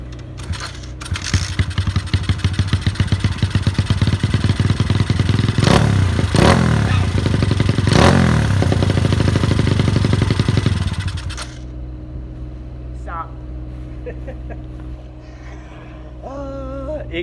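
A motorcycle engine fires up and runs with a fast, rattling idle and a few revs, loud and close, then shuts off, leaving a faint hum.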